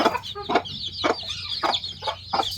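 A hen clucks in short, repeated bursts inside a chicken shed while her chicks keep up a steady high peeping close by, with no voices.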